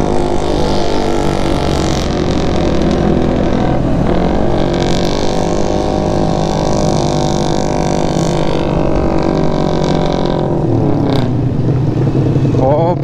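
Yamaha XSR 155 motorcycle climbing a steep uphill road, its engine droning loud and steady, with shifting pitch as the throttle rises and dips, and wind noise throughout.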